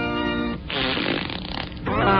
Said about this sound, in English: No one can surpass my skill of passing gas.